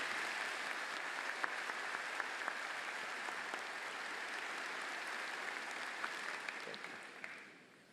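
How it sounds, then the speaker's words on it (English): A university commencement crowd applauds its leaders with broad, sustained clapping from many hands that carries across a large hall at moderate distance, then tapers off near the end. "please give a round of applause for these university leaders"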